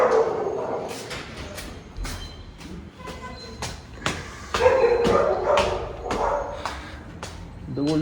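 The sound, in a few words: dogs barking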